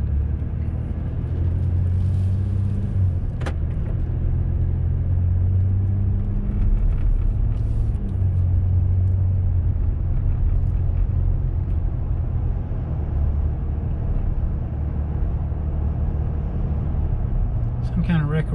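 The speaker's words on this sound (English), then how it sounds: "I'm gonna drive down this way just a piece." A car drives along a road through Montezuma, Georgia, giving a steady low engine and road rumble that runs unbroken throughout, with someone talking over it.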